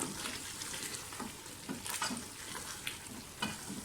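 Mutton sizzling and being stirred in a hot pan while bhuna-style sautéing for a tomato gosht curry, with a steady fry hiss and intermittent scraping stir strokes at close range.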